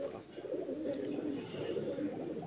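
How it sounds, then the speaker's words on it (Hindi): A Neeldum (blue-tailed) high flyer pigeon at a loft gives low, rolling coos that carry on steadily at moderate loudness, with faint room noise behind. "नीलदुमा कबूतर सर"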